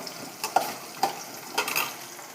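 Flattened rice and seasonings fry in a pan for an Atukulu snack, a soft sizzle broken by a few sharp scraping clinks of a spoon stirring against the metal, fairly close and quiet.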